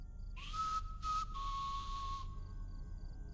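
A killer whistles a short tune in the Fears to Fathom horror game, a clear, fairly loud sliding note broken into three phrases, then fading into quiet.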